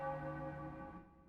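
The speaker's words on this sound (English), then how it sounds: "Ring the bell." A single deep bell tolls once in Baldur's Gate II, a low, resonant strike that fades over about a second with no voices present.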